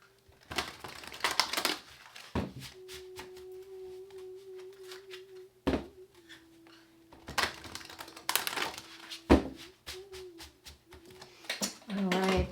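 Tarot cards being shuffled by hand, a series of crisp riffling and flapping bursts that come in irregular clusters at close range, over a steady faint hum.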